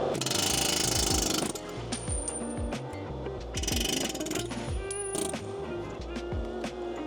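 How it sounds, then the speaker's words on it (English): Loud, rapid rattling hammering of a pneumatic air hammer on stuck car suspension parts in bursts, stopping and restarting, close up with metallic ringing. "Change of plans, we're gonna use an air hammer."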